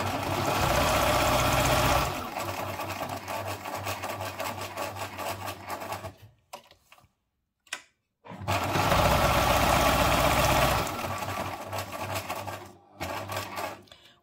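A sewing machine stitching paper spiderweb ephemera for a Halloween junk journal runs in loud, steady mechanical bursts, stopping briefly in the middle before starting up again, with a few short clicks in the pauses.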